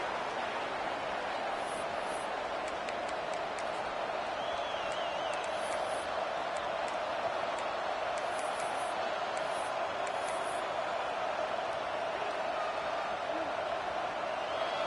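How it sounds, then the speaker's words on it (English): A college football stadium crowd at a Hawkeyes game kickoff keeps up a steady, distant roar, with occasional whistles, under continuous play-by-play commentary. "This crowd ready to make its presence known."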